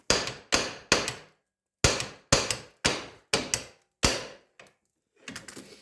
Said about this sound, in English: So just pop the ball joint.